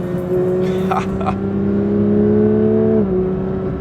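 A Porsche 992 GT3 engine hums in a steady, fairly loud tone while driven gently below full throttle, then drops slightly in pitch near the end as revs ease.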